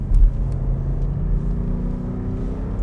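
A BMW M8 Competition cabriolet with 625 hp rumbles along with its top down, a steady deep engine and exhaust drone heard from the open cabin, no talk.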